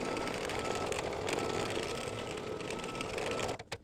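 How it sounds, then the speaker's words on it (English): An embroidery sewing machine stitches a batting placement line for an in-the-hoop mug rug, giving a continuous, dense, rapid mechanical whirring and clatter, close and steady, stopping abruptly near the end. "I'm going to stitch this first color step, which is going to simply give you a placement for the batting."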